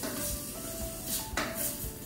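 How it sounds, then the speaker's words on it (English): Utensil scraping and stirring in a pan while ingredients are sautéed for sardine pasta, with soft clinks and a faint steady sizzle in a kitchen, no talking. "let's just saute that for a minute"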